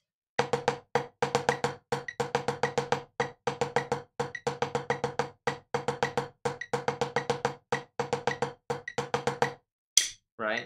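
Rapid, evenly spaced drum strokes played in tight groups of sixteenth notes, repeating in steady bars with brief gaps between phrases.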